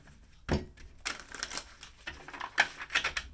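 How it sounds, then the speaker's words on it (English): A deck of tarot-style message cards being shuffled by hand, a series of quick close papery riffles and flicks in irregular bursts, with no talking. "let's shuffle these up a little bit."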